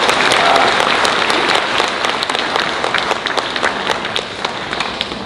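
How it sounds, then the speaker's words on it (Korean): A church congregation breaks into loud, sustained applause during a special lecture by General Park Chan-ju, a dense wash of many hands clapping at close range that eases slightly toward the end. "박수 한번 쳐주십시오."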